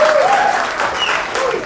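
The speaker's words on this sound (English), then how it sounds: "Let me see by round of applause." Dense audience applause at a business presentation crowd fills the whole stretch, steady and close, with many hands clapping together and no break.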